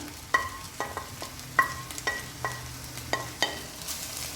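Sautéed onions and cooked minced beef stirred together in a pan for samosa filling, a low sizzle under repeated sharp clicks and scrapes of a utensil against the pan at an irregular rhythm.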